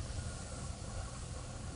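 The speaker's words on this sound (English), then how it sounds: "the steam is coming out of that steadily" Steam hisses steadily and continuously from the vent pipe of a pressure canner during canning, a constant broadband rush with low rumble underneath, fairly close and unbroken throughout.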